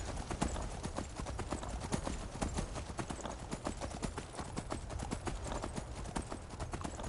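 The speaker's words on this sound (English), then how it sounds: "you get a horse called Shadowmere" Shadowmere, the horse in the video game Skyrim, gallops with a fast, steady clip-clop of hooves that fills the whole stretch at close range, with no clear neigh standing out.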